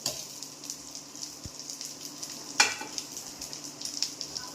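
Green coconut halwa is stirred as it fries in desi ghee, with a quiet, steady sizzle, light spoon scraping and one sharper clink midway.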